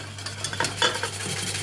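A whisk or spoon stirs hot whole milk poured into a bowl, giving a close, steady scraping and swishing with a low hum underneath and no talking.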